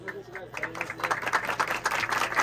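Crowd applause and cheering at a student rap battle competition, a short, busy burst of clapping with voices mixed in throughout.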